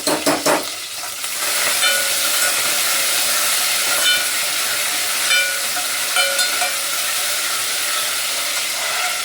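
Curry leaves and coriander dropped into hot oil give a sharp burst of crackling at the start, then a steady, loud sizzle with faint intermittent clinks and pops, heard close with no talking.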